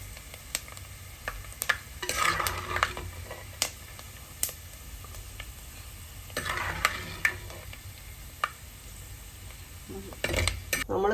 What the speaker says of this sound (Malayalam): പിന്നെ നമ്മൾ പാത്രത്തിലോട്ട് കോരുക